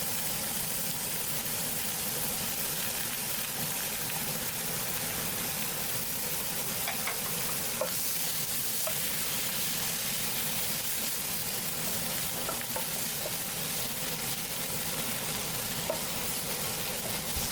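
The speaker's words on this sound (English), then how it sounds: "So I am adding onion." Chopped onion fries in oil in a pan, a steady broad hiss with faint scattered crackles that holds for the full stretch, without any voices.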